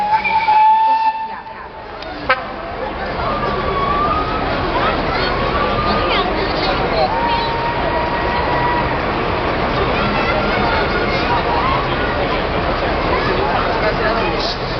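Historic four-wheeled railcar from a historic rail vehicle club at a locomotive parade, a short whistle blast at the start followed by a loud steady rolling rumble of the passing train, with a voice speaking over it.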